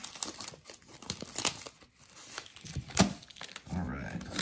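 Packs of 2013 Hometown Heroes baseball cards are torn open, giving close, irregular bursts of crinkling and ripping wrapper with people talking between them.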